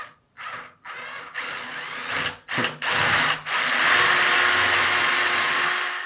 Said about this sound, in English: get your drill and make a hole